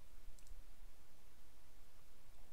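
Two quick, faint mouse clicks near the start, pressing a play button, over a steady low hiss of background noise.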